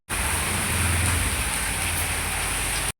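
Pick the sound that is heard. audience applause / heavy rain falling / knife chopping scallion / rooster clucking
heavy rain falling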